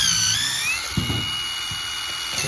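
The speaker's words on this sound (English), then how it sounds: "you drill it in." A power drill whines steadily at high pitch, with a few low thumps as the bit drives into wood for a raised garden bed.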